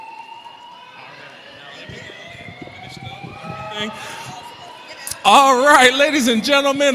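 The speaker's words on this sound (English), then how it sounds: "someone pulled the fire alarm" A fire alarm goes off in a crowded caucus cultural-celebration hall, its shrill pulsing tone cutting in loudly and steadily over the room after a stretch of crowd murmur, with someone speaking over it.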